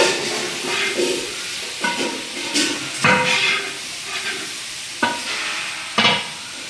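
Sliced onions sautéing in a pan for mutton chops, with a steady soft sizzle broken by several sharp scraping stirs of a utensil against the pan, close and moderately loud, no talking.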